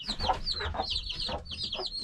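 A hen and young chicks cluck and peep in quick, overlapping calls close by in a backyard coop, a busy chatter of short, bright notes with no voices.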